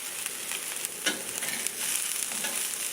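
Onions frying in a pot, headed toward translucent, give a steady close sizzle with occasional stirring scrapes and a brief louder crackle, no voices.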